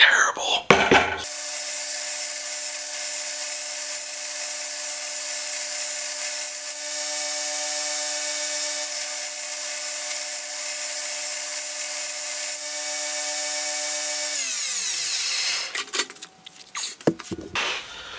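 An electric grinder works a Harbor Freight Pulaski axe head, a steady high whine running for about thirteen seconds before spinning down, with clattering handling noise at either end.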